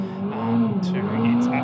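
Race car making about 600 horsepower with heavy turbo boost and a short-ratio gearbox on a Pikes Peak record run, its engine holding a steady loud drone with a couple of brief high hisses, under commentary.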